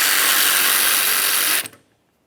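A hand ratchet works loose the 13mm headed mounting nut on a power steering return hose bracket of a 2007-2017 Jeep Patriot, a close, continuous fast clicking that stops abruptly near the end.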